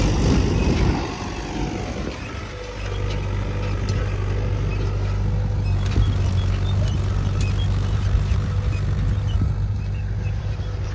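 A Mahindra 575 tractor pulling an 8x8 disc harrow in a field, its diesel engine droning steadily and close after a brief louder rumble, with soil and metal clatter underneath.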